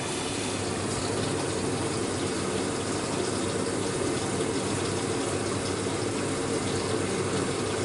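Washing machine filling with water from the tap, a steady continuous rushing gush that holds at an even level throughout, with no talking.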